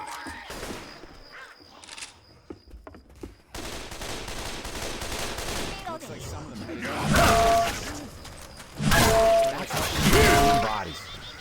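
Gunfire erupts in the zombie shooter Left 4 Dead 2 on a swamp level, with rapid bursts and shots crackling over game noise and loud in the foreground, alongside in-game character voices.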